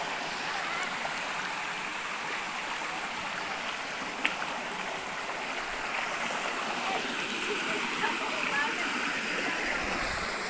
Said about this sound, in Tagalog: Yan ang tubig, oh.